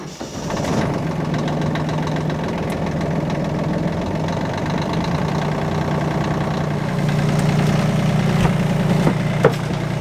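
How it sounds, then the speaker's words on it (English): A sailboat's repaired engine cranks over and catches, then settles into a steady, close, throbbing idle with a knocking rumble that runs on for the rest of the stretch. "The test now is to start the engine up and see if anything leaks."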